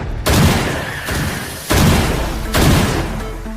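Shots fired in a target shooting contest, three loud, booming reports spaced about a second apart, each with a lingering reverberant tail, with no talk over them.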